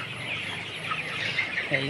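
Several chickens cluck and murmur close by in a busy, overlapping chorus.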